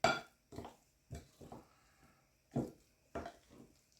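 A spoon stirs and turns over thick sourdough waffle batter in a bowl, making about six separate scraping, clinking strokes in an uneven rhythm, close up with short pauses between them.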